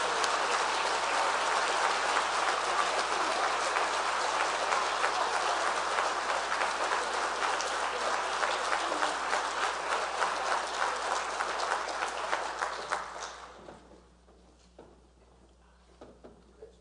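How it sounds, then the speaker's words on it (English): A packed audience at a university spring convocation gives sustained, dense applause that holds steady for about thirteen seconds before dying away into near silence. "A round of applause for this dedicated"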